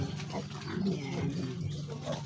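A pig, one of the household's own that cannot stand up, grunts and snorts in short, close bursts amid rustling farmyard background noise.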